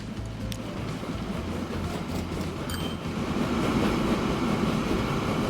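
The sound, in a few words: long train in Transport Fever 2 video game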